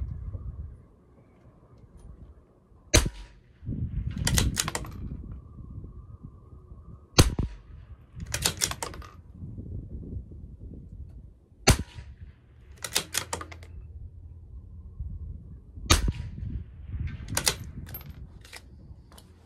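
Sharp, loud single rifle shots from a CZ 457 LRP fired at targets in a rifle match, each crack standing alone at spaced intervals, about five across the stretch, with short rattling bursts of bolt or target clatter between them.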